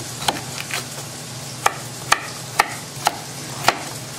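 Butter sizzling in a pan for chicken stock, a low steady hiss broken by sharp, distinct clicks and knocks of a utensil against the pan at irregular intervals, close up, no talking.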